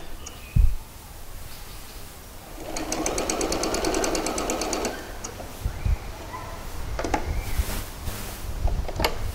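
A sewing machine stitches a straight seam in a steady two-second run of rapid needle clatter, framed by thumps, clicks and fabric handling before and after, close and moderately loud with no talk.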